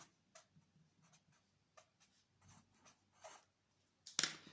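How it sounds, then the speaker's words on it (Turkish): A pen writes into boxes on a sheet of paper during a math problem: faint, scattered scratching strokes in a quiet room, ending in a louder, sharper scrape. "Kutulara yazıyorum."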